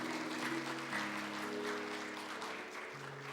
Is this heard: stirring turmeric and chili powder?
no